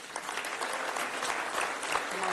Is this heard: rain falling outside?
no